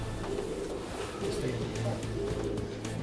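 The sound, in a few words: pigeons cooing in a pigeon loft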